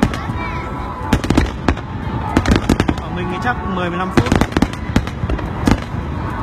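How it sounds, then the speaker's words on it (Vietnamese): Fireworks at a Japanese summer festival pop and crackle in rapid, irregular bursts, some loud and close, with a person talking throughout. "mỗi lần bắn pháo hoa của Nhật"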